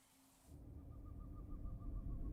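A bird hoots in a video game reveal trailer, a quick run of evenly spaced owl-like notes over a rising low rumble after a brief quiet start.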